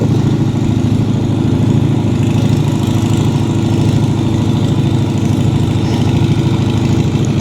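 A rice threshing machine's engine runs in a paddy field, a loud, continuous, rough mechanical drone with a steady throb and no pause or talk throughout.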